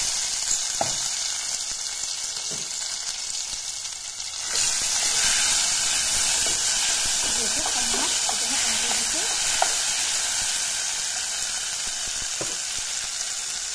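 Garlic, ginger, chili and onion paste dropped into hot oil in a kadai for fish curry, a quiet hiss that jumps into a loud, steady close sizzle with faint stirring scrapes, no speech.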